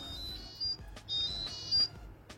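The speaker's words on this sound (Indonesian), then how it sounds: "kalian bisa play alarm musik nih guys, jadi TWS-nya akan mengeluarkan suara kecil" Fantech Mithril TX-1 Pro wireless earbuds emit a faint find-me alarm, three short high-pitched electronic beeps spaced apart against a quiet room.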